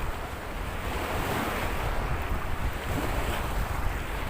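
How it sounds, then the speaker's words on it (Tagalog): Strong ocean waves crash and roar continuously at the beach in De La Paz proper, with wind buffeting the microphone into a loud, dense wash of surf. "sobrang lakas ang alon"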